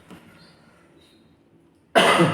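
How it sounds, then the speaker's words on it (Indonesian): A single loud, harsh cough bursts out near the end after a stretch of near silence, close and forceful. "batuk lagi"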